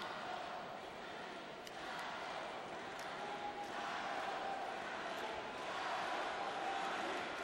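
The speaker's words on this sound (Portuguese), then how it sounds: "Com certeza a torcida brasileira é mais barulhenta" Brazilian volleyball fans in an arena roar as a sustained, distant crowd din with swelling cheers and whistles, continuous throughout.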